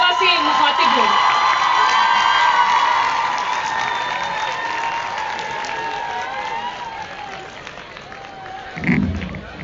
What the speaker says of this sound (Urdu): میں آپ لوگوں کی بھرپور تالیوں میں گزارش کرتی ہوں